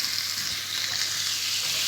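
Chopped vegetables and garlic fry in a hot pan with a steady, dense sizzle, stirred now and then, close and continuous with no talk.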